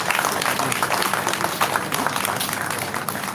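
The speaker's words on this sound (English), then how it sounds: "the amount I'm seeing here deserves a very good applause" An audience at an ophthalmology faculty lecture breaks into dense, sustained applause, with many hands clapping together at close range.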